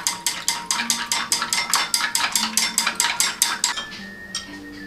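A utensil clinks rhythmically against a bowl while marinated diced meat and ingredients are stirred, about fifteen evenly spaced close metallic taps before it stops and the room goes quiet.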